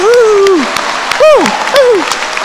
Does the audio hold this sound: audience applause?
yes